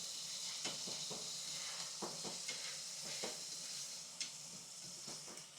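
Green chilli, mint and coriander being stirred through mutton curry in a hot pan, a steady sizzle and hiss under irregular scraping strokes of the spoon, with no talking.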